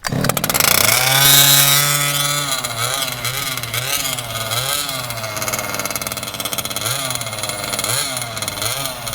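Gas-powered giant RC monster truck engine on ice, loud and close, revving up and down in repeated rising and falling bursts with a buzzy, chainsaw-like tone, no talking.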